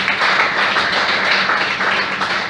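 A church congregation applauds during an evening worship session, a steady wash of clapping at close range that holds at an even level for the whole stretch, with no voices rising above it.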